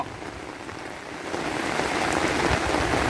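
Steady afternoon rain pours down on surfaces around a rural home, a dense continuous hiss that swells slightly louder partway through, with no voices.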